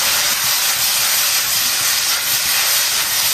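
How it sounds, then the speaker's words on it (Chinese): Chili peppers and pork stir-fried in a wok with oyster sauce and soy sauce, a steady loud hiss and sizzle with no break and no talking. "继续翻炒"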